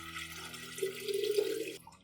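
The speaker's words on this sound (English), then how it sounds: "I add about 1 liter of clean water." About a liter of clean water pours steadily into a cup in a quiet room, a soft continuous trickle that swells for a second or so before stopping abruptly.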